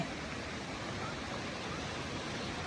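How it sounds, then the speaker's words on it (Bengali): Waterfall stream running beside a walking path, a steady broadband rush of flowing water, even and fairly faint, with no voices. "ঝর্নার যে ধারা"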